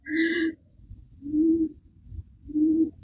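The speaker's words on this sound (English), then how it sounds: "That pigeon is just so annoying." A pigeon coos repeatedly near a UK home, three low rounded hoots evenly spaced and fairly loud, with no talking over them.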